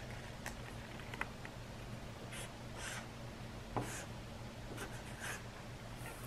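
A pencil scratches on paper as an arithmetic problem is worked out, a faint, steady scribble with small taps and strokes in a quiet room.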